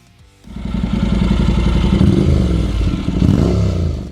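A Honda NC 750X motorcycle engine fires up and runs with a deep, throbbing idle, then revs up briefly before settling, heard close and loud with no talk.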